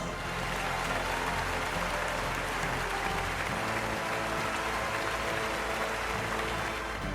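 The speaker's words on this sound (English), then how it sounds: "Let's give a big round of applause to all the prize winners" Steady applause from an audience at a school annual day prize-giving, a dense continuous clatter of many hands clapping for about seven seconds, with no speech over it.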